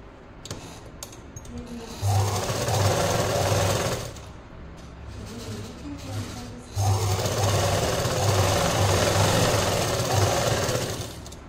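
An electric sewing machine stitches a salwar made from an old palazzo in two loud, steady mechanical runs, each a few seconds long, separated by a quieter pause.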